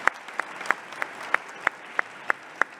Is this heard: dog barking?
no